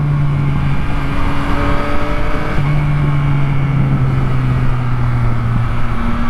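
A Yamaha MT-09 motorcycle held in second gear on a road ride, its engine droning steadily and loudly with shifting rev tones and constant wind rush.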